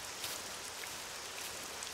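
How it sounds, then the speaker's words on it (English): Steady rain falls in the survival game SCUM, a continuous hissing downpour with faint droplet patter, moderately quiet and unbroken. "Yeah, it's pretty much outright just raining on me now."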